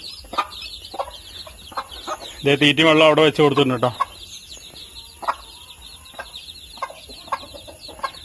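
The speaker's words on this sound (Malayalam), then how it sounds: "നമ്മൾ കോഴിക്കുഞ്ഞുങ്ങളെ പുറത്ത് വിട്ടിരിക്കുകയാണ്" A hen and her chicks cluck and cheep outdoors after being let out, a brief louder burst of hen vocalizing standing out among scattered peeps, with a person speaking nearby.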